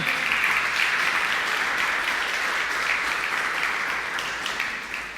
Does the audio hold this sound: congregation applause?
yes